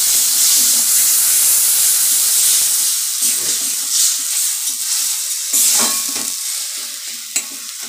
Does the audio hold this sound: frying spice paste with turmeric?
yes